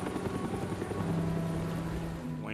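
Steady helicopter rotor drone in a Batman video game, low whirring thump, fairly close and continuous, with a rising tonal sweep near the end.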